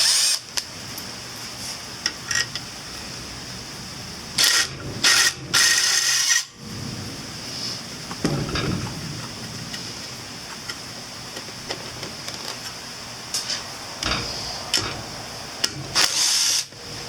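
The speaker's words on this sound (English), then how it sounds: "Yeah, I can get that impact driver in there." Cordless impact driver backing bolts out of a 49cc Minarelli two-stroke scooter, sounding in several short, loud bursts of a few seconds each against a steady background hum, with quiet pauses between the runs.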